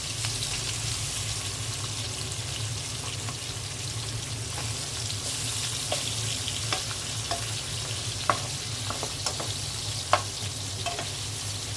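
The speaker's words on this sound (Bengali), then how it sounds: "পাবদা মাছগুলো আমি ভেজে নিচ্ছি।" Pabda fish frying in a pan with oil sizzle steadily and closely, with occasional louder pops and crackles over the constant hiss.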